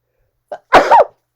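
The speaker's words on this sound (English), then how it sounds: "I have to sneeze." A single sharp sneeze, preceded by a short intake of breath, close and loud in an otherwise silent moment.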